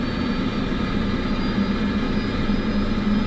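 A jet airliner engine spins up in Microsoft Flight Simulator 2024, a loud, steady roar with a constant low drone and an even whine on top, heard alone.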